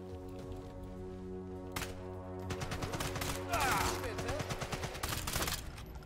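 Gunfire in Sniper Elite 5 bursts out in repeated volleys, several sharp shots and rattling fire over game music and ambience, growing busier toward the end.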